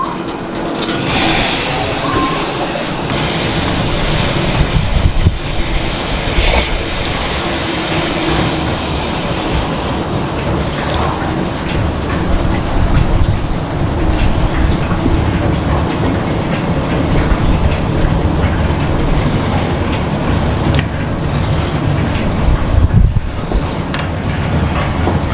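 An electric transfer pump on a Vevor diesel fuel caddy runs continuously, a loud steady rumbling drone with rattling texture and little variation, close by and without talk.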